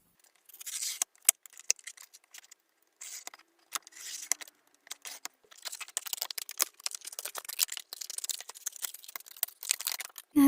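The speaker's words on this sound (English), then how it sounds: "I'm going to start by taking my craft knife and then slicing this in half." A craft knife slices through a cardboard tea box, giving a run of short, crisp scraping cuts and rustles with brief pauses, close and fairly quiet.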